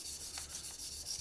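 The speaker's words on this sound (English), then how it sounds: "we're literally just sanding metal, polishing, but it's really sanding" Quiet, rhythmic rubbing strokes of a KME sharpener stone sanding a steel knife blade, several short back-and-forth passes close up with no talk.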